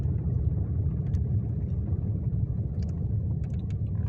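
Busy road traffic with many cars gives a continuous low rumble and hum, steady and fairly loud, with no voices.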